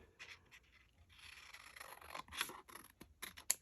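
Scissors trim paper for a handmade card, making quiet, close snipping and rasping cuts in an uneven sequence with no voices over them.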